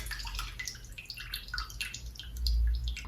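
Liquid paint pours into water for an airless paint sprayer, a close, continuous splashing and gurgling that swells louder near the end.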